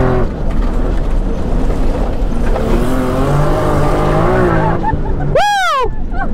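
Nissan Skyline GTR Safari on a rally stage, engine working hard on gravel followed by a loud, wavering tire squeal as it drifts near the end; excited voices are heard.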